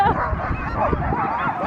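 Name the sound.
dogs barking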